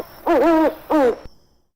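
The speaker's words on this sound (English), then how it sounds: "Shovel, then an owl, a loud owl." A loud owl hoot from the Escape the Crate puzzle game, heard as two drawn-out hoots with a short gap between them, clear and close with nothing else underneath.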